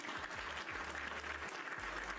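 A faint, steady patter of clapping carries on evenly for a couple of seconds, soft and distant.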